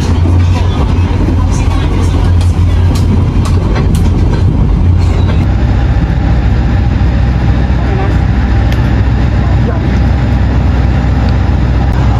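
A loud train rumbling past nearby on the line from Kediri, Indonesia, a continuous heavy roar with rhythmic clatter of wheels on rails and scattered metallic clicks.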